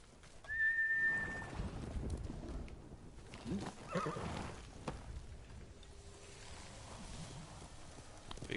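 Horse in the video game Ghost of Tsushima, a clear whistled call followed by a loud whinny and clip-clopping hooves approaching nearby, then quieter ambient sounds; a voice is briefly present.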